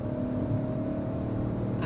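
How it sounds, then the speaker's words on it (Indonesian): The 1200 cc turbocharged three-cylinder engine of a Peugeot 2008 hums from inside the cabin as a steady low drone with a faint tonal whine, holding an even level throughout, with no voices. "suara tiga silindernya tidak terlalu terasa kecuali pada saat kita uh, akselerasi"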